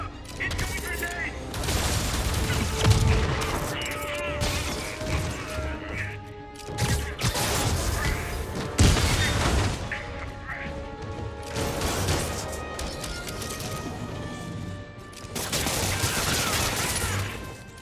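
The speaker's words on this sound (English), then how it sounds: "Eyes up! Incoming grenade!" A grenade explosion amid ongoing gunfire in Spider-Man Remastered, with heavy crashing blasts and rattling shots in loud waves and short pauses between bursts.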